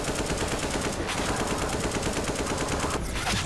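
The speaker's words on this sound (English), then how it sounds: "Taking fire, bro! Get down!" Rapid gunfire in the Half-Life 2 mod EVACUATION: dense, continuous automatic bursts that fill the whole stretch at a loud, steady level, with no talking.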